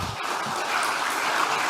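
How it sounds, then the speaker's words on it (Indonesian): An audience applauds at a PDIP political gathering about the Jakarta regional election, a steady wash of clapping that holds for under two seconds with no voices over it. "Tepuk tangan lagi."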